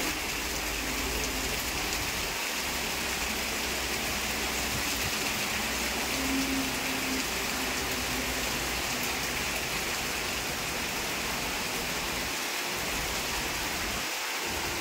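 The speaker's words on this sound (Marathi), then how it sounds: "खूपच जोरात पाऊस आलेला आहे." Heavy rain pours down hard and continuously during an outdoor Shiv Jayanti celebration at Panchgani, a dense and loud roar of falling water with a few low rumbles and no talking.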